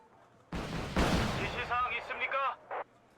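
Heavy weapons fire in Wargame: Red Dragon, a loud blast-like burst opening into a rumbling volley and then trailing off, with a voice speaking over parts of it.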